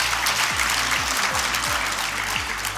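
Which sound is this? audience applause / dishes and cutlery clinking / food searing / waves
audience applause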